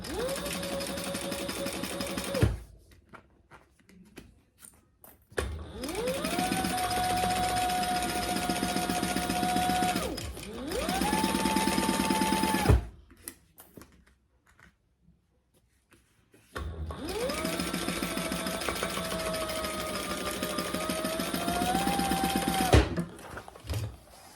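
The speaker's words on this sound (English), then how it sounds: "let's just sew this at our seam allowance" A sewing machine stitches a bag seam in three long runs, each a steady whirring buzz that winds up, holds and stops, with quiet gaps between.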